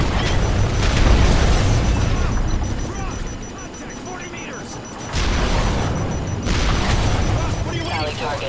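An explosion strikes a tank on a Berlin street in Call of Duty Modern Warfare 3, a loud booming blast amid ongoing battle rumble and gunfire, swelling again after a brief lull, with no voices.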